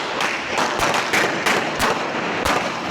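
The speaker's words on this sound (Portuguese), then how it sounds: "repare novamente na quantidade de tiros disparados contra essa casa" Rapid gunshots fired at a house by criminals filming with a gun in hand, a dense run of sharp cracks and broadband bursts spread over three seconds, loud and close with no talk.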